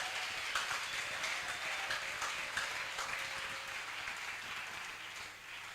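A church congregation applauds steadily through a Sunday service, a dense, continuous wash of clapping hands at moderate level, slightly fading toward the end.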